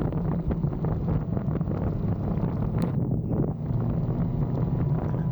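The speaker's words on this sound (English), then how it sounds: "I mean, I know it's windy, but the wind is giving the sea some amazing waves." Strong wind at Dunnet Bay pummels the microphone, a loud, continuous low roar with gusty buffeting that makes waves on the sea. It goes on throughout with no voices.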